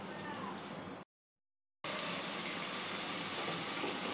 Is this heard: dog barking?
no